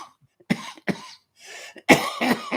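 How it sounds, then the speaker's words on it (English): A man coughs several times in ragged bursts, loud and close, with short pauses between coughs and a harsher cluster near the end. "What a cough I have."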